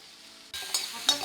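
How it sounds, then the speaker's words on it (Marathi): Onion, tomato and chillies roasting in a pan for misal, a steady sizzle that jumps louder after a brief quieter start, with a couple of bright stirring bursts near the end. "हे व्यवस्थित लाल असं खरपूस भाजून घ्या"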